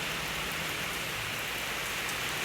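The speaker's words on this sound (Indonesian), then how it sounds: "Hujan terus tuh." Heavy rain falls steadily, a dense, even wash of drops pattering on surfaces with no pauses and no voices.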